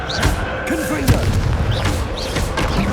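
Confringo fire-spell blasts in Hogwarts Legacy combat, a dense string of loud booming explosions and sharp bursts one after another, with a low rumble filling the gaps and voices heard over the action.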